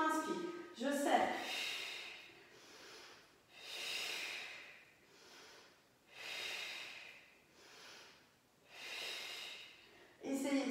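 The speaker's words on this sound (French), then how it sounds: "Ça, c'est l'expire." Slow, audible breath exhalations during a yoga exercise, a steady rhythm of long airy outbreaths about every two to three seconds, close and soft, with faint rustling at the start and end.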